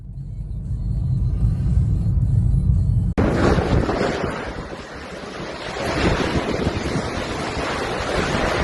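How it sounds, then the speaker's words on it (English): Gale-force storm wind gusting in Cape Town's Wynberg suburbs, a loud roaring rush that buffets the microphone and swells and eases continuously, with a deep rumble at first before the blast broadens. "gale-force gusts ripped roofs off homes and commercial buildings in Wynberg and neighboring suburbs"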